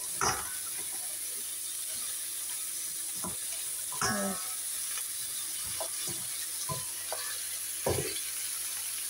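Sponge gourd sizzles softly in a pan while being stirred, with a low steady frying hiss and occasional scrapes and clacks of the utensil at irregular intervals.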